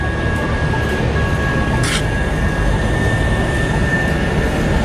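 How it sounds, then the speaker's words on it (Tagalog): A train rumbles past close by in downtown Boston with a steady, loud roar, constant wheel noise and a faint high whine throughout. "Ayun yung tren, no?"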